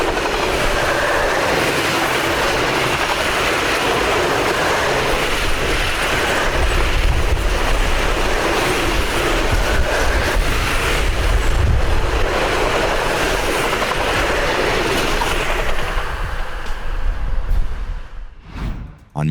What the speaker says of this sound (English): this ethanol train moves swiftly through the line